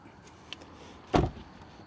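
A Tesla's front trunk unlatching and opening, a single brief thunk with a short mechanical rumble after a small click, close by in a quiet setting.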